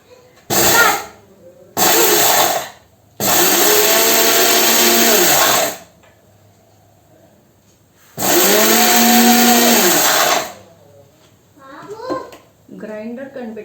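A mixer grinder whirs loudly in several bursts as it grinds pulses and garlic into powder, each run a few seconds long with stops in between, and a voice talks briefly near the end.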